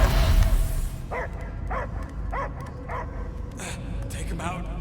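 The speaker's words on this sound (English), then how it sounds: "I hear only barking." A dog in the Guardians of the Galaxy video game gives a rapid run of five or six yips and barks over a dense, rumbling game soundscape, with louder barks at the end.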